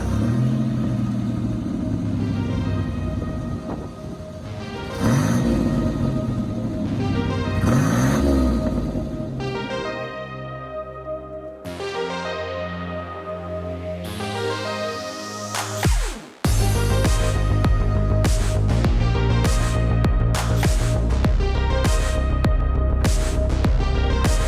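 A 1987 Buick GNX engine rumbles steadily while driving, swelling into revving accelerations with rising tones and shifts, loud and close throughout.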